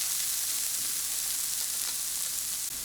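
Meat browning in a pan for Salisbury steak meat loaf, a dense, constant close sizzle with faint stirring movement beneath.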